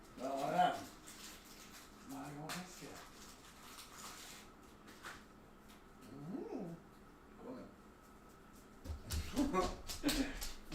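A tired dog gives soft whimpers and whiny yelps, with faint scattered vocal bursts at a quiet level and a couple of louder whines near the end, all set against a hushed domestic room.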